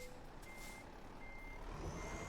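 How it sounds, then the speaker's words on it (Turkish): Repeated electronic reversing beeps from a truck in a driving video game on a treacherous road, steady tones sounding over a continuous engine rumble with no talking. "Şimdi kamyon gidiyor ama nasıl gittiğinin farkında değilim."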